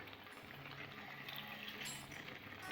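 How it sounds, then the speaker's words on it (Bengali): Water poured into a pot of home-style vegetable curry made with coconut and peanut paste, a steady splashing trickle running through the whole short stretch with no talk. "বেশি ঝোল দেবো না, সবজিটা সিদ্ধ হওয়ার মতো জল দেবো।"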